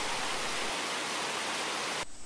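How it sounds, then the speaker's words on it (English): Creek water rushing steadily beside a mountain trail on Hawk Ridge in British Columbia, a loud, dense broadband wash that cuts off abruptly near the end. "The trail starts on the left side of a creek, but here it crosses to the other side."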